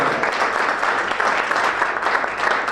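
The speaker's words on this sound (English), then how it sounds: "So a big round of applause for Dave." A room full of guests at a motor racing awards dinner applauds heartily, a thick, even wash of clapping that holds steady and close for a few seconds without speech.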